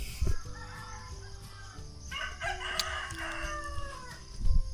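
A rooster crows once on a farm in the rural Philippines, a harmonic call of about a second or two standing out from the ambience, with a few thuds and other noises around it and more crowing or clucking further off.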